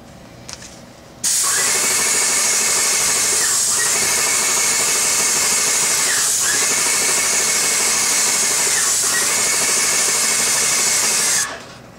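Sealant sprayer applying Cleanseal EP Clear to moldy raw attic rafters gives a loud, steady hissing spray that runs almost continuously, with brief dips where the trigger eases, and no talk over it.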